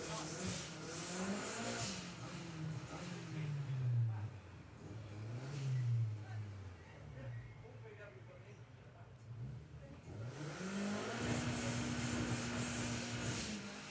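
Engine of a VW Caddy drag racing car revving at the start line during a drag racing nationals meet, repeated rising and falling revs heard at a distance, with a commentator talking over much of it.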